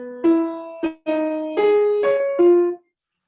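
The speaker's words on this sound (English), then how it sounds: "The cello responds with a similar arch phrase" Cello answering with an arch phrase of perfect fourths ending on a falling minor sixth, from Elliott Carter's music, five or six bowed notes that quicken toward the end, close and solo without speech.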